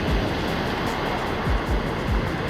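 Ocean surf rolls onto Tulamben beach in a steady wash of noise, with a few soft low thumps as waves break, heard alone without voices.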